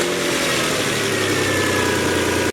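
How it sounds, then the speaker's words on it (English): A car engine runs steadily at idle with a constant mid-pitched rumble, loud and close throughout, cutting off abruptly at the very end; no one speaks. "then I'm going to start the vehicle and engage the AC compressor"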